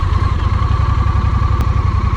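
A Honda Rebel 1100 DCT motorcycle engine running close up, a steady loud throbbing idle with rapid even pulses right after the starter is pressed.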